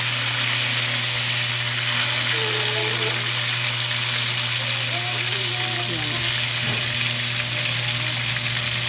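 Fish sizzles and crackles as it fries in hot oil in a pan, a steady, loud hiss that continues throughout, with a faint voice underneath.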